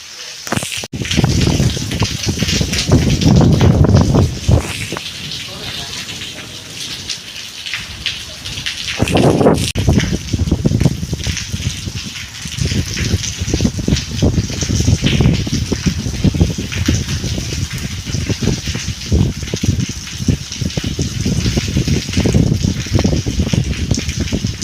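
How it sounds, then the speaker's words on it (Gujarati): Heavy rain pours steadily outdoors at a shooting location during Navratri season, a dense, continuous hiss with louder gusty swells and faint background voices now and then. "ફૂલ વરસાદ પણ આવી રહ્યો છે"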